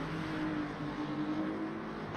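A race car engine in the Le Mans Ultimate racing game hums at a steady, fairly quiet pitch, a continuous drone of a car at speed during a close battle on track.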